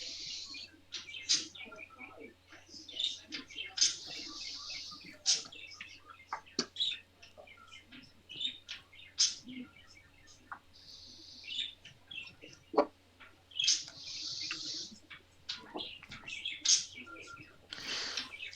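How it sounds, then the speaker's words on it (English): Small birds chirping in repeated short, bright calls throughout, moderately close, over a steady low background hum. "I can hear the birds."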